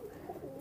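A Pakistani high flying pigeon gives a short, soft coo, faint and close, heard alone.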